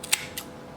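Two sharp, quick snips of a small cutter clipping thin vape coil wire leads on an RTA, close and crisp, about a quarter second apart.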